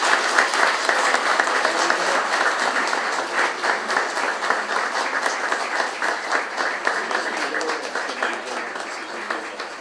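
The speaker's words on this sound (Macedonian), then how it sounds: "ве молам со еден голем аплауз да му честитаме" Sustained applause from an audience at an award presentation during a traditional communal lunch held at a monastery, dense clapping continuing steadily throughout at fairly close range.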